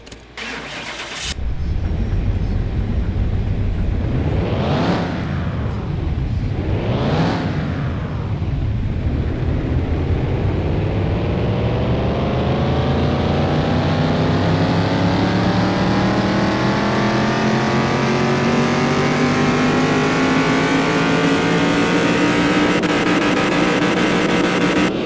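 Engine on a dyno in the Car Mechanic Simulator 21 game starts and revs up twice in quick rising-falling sweeps, then climbs in one long, steady, loud pull toward high rpm, continuous and close with no talking.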